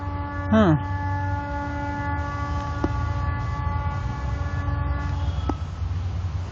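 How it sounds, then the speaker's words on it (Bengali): A train approaching along a line through jungle sounds a long, steady horn that runs almost unbroken over a low rumble, with a brief falling blast near the start. "হয়তো এখন ট্রেন আসছে, দেখি ট্রেন দিয়ে কিছু করা যায়।"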